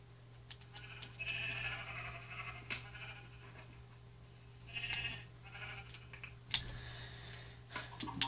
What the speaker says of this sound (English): I can see a sheep over here, which I'm going to kill.